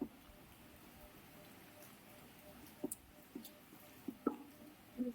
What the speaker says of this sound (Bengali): এই বৃষ্টির আওয়াজে ঘুমাতে ভালো লাগে।